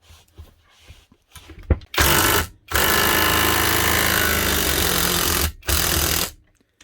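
A knock-off Milwaukee impact wrench drives an M8 bolt in long, loud, continuous rattling bursts, three runs separated by short pauses, after a few light clicks and taps.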